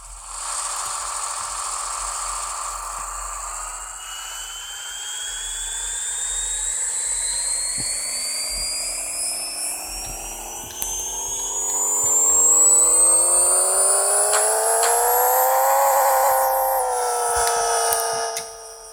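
A high-revving Mark IV Toyota Supra engine in Pixel Car Racer winds up on a dyno, its whine climbing steadily in pitch for many seconds, loud and continuous.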